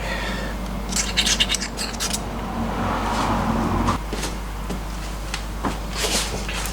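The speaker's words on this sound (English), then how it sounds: "just go around this face and just make sure there's nothing of the old gasket left behind" Old gasket material is scraped off the face of an MGB MK1 banjo-axle differential housing; close, scratchy rasping strokes come in irregular bursts over a steady low hum.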